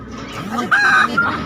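Native chickens and chicks at a poultry chick market cluck and squawk close by in a brief, dense burst, with a sharper crowing-like call rising through the middle.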